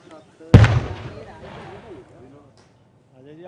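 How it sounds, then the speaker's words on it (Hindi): One loud boom of cross-border gunfire from the Pakistani side near the Jammu border region bursts close by, then rolls away in a fading rumble, with voices talking before and after it. "सीमा से सटे तमाम इलाकों में पाकिस्तान की तरफ से नापाक फायरिंग का यह सिलसिला लगातार कई दिनों से जारी है।"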